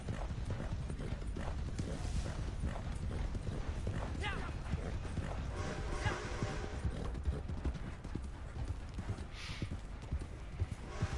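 Horse hooves gallop in a steady rapid clip-clop during a Red Dead Online train race, close and continuous under game music and ambience, with a brief whinny and talk over it.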